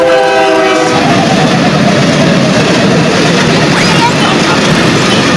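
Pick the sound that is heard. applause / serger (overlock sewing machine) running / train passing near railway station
train passing near railway station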